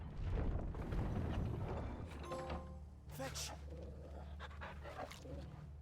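Torgal, a dog in the game Final Fantasy 16, panting in quick soft breaths over low game ambience, with a short chime and a brief whimper partway through.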